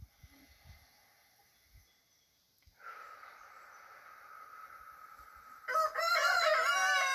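A rooster crows loudly and close by near the end, breaking a quiet stretch of faint background hum with a few soft knocks. There are several chickens nearby. No one speaks.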